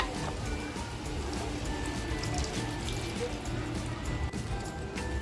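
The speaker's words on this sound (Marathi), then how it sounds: "आता हे पाणी मी ह्याच्यामध्ये टाकते" Crab leg stock water poured into a cooking pot for a crab and egg biryani, a steady continuous liquid pour with broadband splashing throughout.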